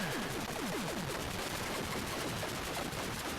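Explosion effect from a ground installation destroyed in the Atari 8-bit game Warhawk: a loud, harsh burst of static-like noise with a few rapid descending zaps at the start, continuing as a dense, steady crackle with no voices.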